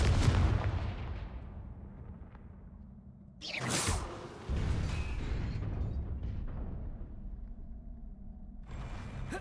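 A Confringo spell blast in Hogwarts Legacy, with a sudden loud whooshing explosion midway, a rumble before it and a sustained ambient roar after, plus another burst near the end.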